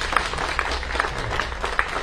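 A modest campaign rally audience applauds with a light, scattered patter of hand claps that stays fairly even for a couple of seconds.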